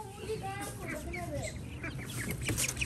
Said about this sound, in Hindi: यार इस मुर्गी को पकड़ के बंद करते हैं, ये उड़ के निकल गई